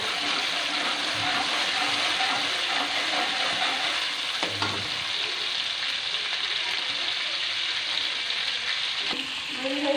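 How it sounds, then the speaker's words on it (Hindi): Garlic ginger paste frying in a pan, a steady bright sizzle throughout with occasional stirring scrapes. "सबसे पहले हम इसमें डालेंगे लहसुन अदरक का पेस्ट। इसे हम थोड़ा सा फ्राई कर लेंगे।"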